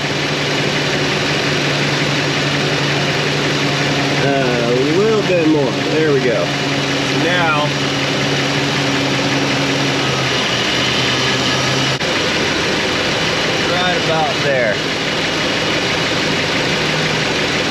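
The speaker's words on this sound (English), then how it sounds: "I hope you can hear me, the fan's going." A 1985 Chevrolet El Camino, which has been shutting down while driving, idles loud and close with its fan roaring steadily, a constant low engine drone under someone talking as he adjusts the distributor.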